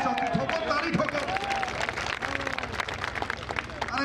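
A crowd claps and applauds at a political rally in Sirsa addressed by a Punjab cabinet minister, a busy burst of hand claps with voices and crowd noise running underneath.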